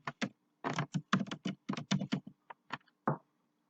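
Quick keystrokes on a computer keyboard typing a room label in drafting software, a crisp close run of about twenty taps in uneven bursts, ending with one firmer key press, and no talking.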